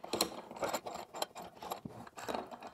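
A Kreg 90° corner clamp being screwed in, giving a run of close, quiet ratcheting clicks and mechanical ticks in uneven bursts.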